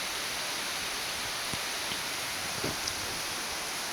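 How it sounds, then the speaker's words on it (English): Steady rain falls outdoors as a constant, even hiss, with a few soft drips or taps breaking through now and then. "Thank you for the rain."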